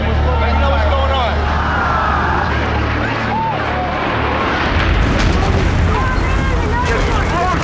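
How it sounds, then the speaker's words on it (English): A loud, chaotic roar of blasts and rumbling debris fills the scene, with sirens and shouting voices mixed into the dense, continuous noise. "This explosion is incredible."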